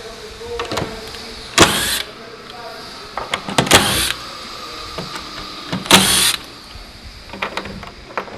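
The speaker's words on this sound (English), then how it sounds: "Grab the screw gun, unscrew it." A screw gun backs a screw out of a ShopBot CNC-cut workpiece, its motor whirring in three short loud bursts separated by quieter pauses and faint handling clicks.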